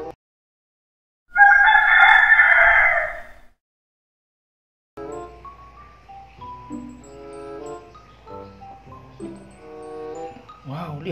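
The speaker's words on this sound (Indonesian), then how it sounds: "Ini adalah ayam." A rooster crows once, loud and close, a long drawn-out call standing alone in quiet, followed after a pause by a person talking.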